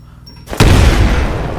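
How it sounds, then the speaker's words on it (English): A grenade goes off in the shooter game Titanfall: a single loud, sudden blast after a short quiet moment, then a rumbling tail that fades slowly. "Throw a grenade into each of the windows."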